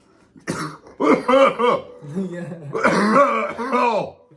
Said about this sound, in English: just start coughing